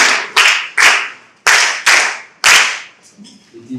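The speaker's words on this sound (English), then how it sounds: "Clap the hand for her" Students in a geography classroom clap for a classmate in a few sharp, loud bursts of rhythmic group clapping, each burst starting abruptly and decaying, before fading into quieter room noise.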